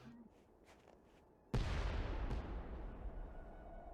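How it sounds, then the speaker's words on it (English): A sudden loud boom in a snowy video game, starting an avalanche, bursts in at once after quiet music and leaves a long rumbling roar that slowly fades. "Sounded like an explosion."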